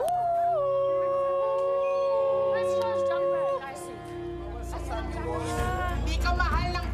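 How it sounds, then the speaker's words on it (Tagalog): A drawn-out, wavering howl rises and slides in pitch, then fades as a group of teenagers bursts into excited chatter and overlapping voices that fill the rest of the moment. "narinig na ng teen housemates ang kinakatakutan nilang alulong"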